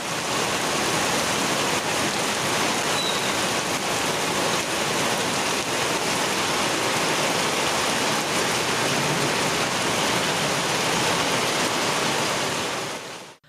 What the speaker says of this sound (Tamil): மேலூர் சுற்றுவட்டார பகுதிகளில் மிதமான மழை பெய்தது